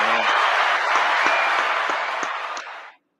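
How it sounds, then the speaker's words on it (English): A round of applause from a small studio group on a casual talk show, steady dense clapping for about three seconds before cutting off abruptly. "I'm gonna give him applause"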